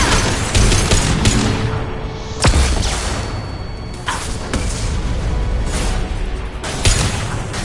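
Rapid gunfire and heavy booms from a sci-fi shooter, Mass Effect Legendary Edition, loud and dense with repeated sharp blasts and a big impact near the middle, continuing in bursts throughout.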